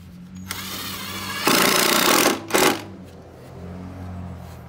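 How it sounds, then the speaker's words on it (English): A power drill driving torque screws into 2x6 boards for a platform bed, two loud whirring bursts in close succession with a sharp grinding bite as each screw seats, then the motor winds down. "let's go ahead and screw these 2x6s in"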